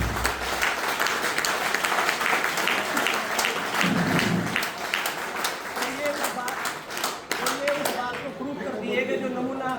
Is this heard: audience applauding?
yes